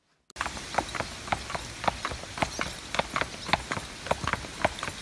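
Horse hooves clip-clop at a steady walking pace on hard ground as a team of driving horses, just unhitched from a mower, is walked home, a close, regular series of about twenty sharp knocks.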